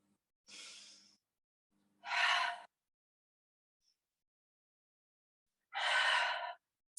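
Slow, audible breaths in and out during a yoga practice, three or four distinct airy exhalations and inhalations separated by quiet pauses, heard close with no talking.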